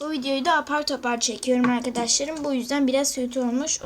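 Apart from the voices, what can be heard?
None of the usual background noises is heard.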